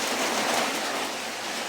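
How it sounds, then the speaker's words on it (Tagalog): Heavy rain pours down in a steady, dense hiss with no breaks, loud and enveloping throughout. "Malakas yung ulan to."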